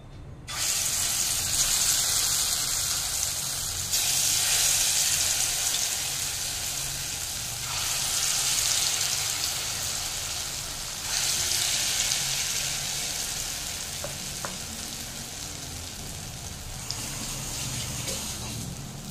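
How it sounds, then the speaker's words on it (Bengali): Lentil batter fritters drop into well-heated oil, giving a loud, broad, hissing sizzle that swells and eases in waves over the whole stretch, with no speech. "এবার ঠিক যেরকম ভাবে বড়াগুলো ছাড়ে সেভাবে আমি ছেড়ে দেবো।"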